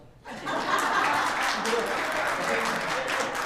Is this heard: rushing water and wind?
no